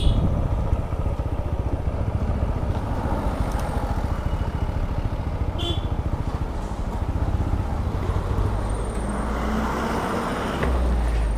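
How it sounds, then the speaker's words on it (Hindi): Congested traffic jams a main market road, with a dense, continuous mix of car and motorcycle engines idling and creeping close by, plus brief horn-like tones and clatter over a loud, steady rumble. "और लो मेन मार्केट में लग चुका है जाम।"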